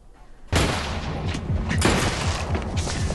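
Gunfire in a fight scene from the TV crime drama Mr Inbetween bursts in after a quiet start, a dense sustained volley of loud shots and booms with no pauses.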